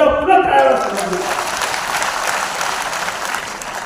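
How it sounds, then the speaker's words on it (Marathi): An audience claps for the government at a religious celebration gathering, a broad wash of applause that swells briefly and then holds steady, with a voice trailing off at the start. "त्याच्याकरता शासनासाठी एकदा पुन्हा टाळ्या वाजवा."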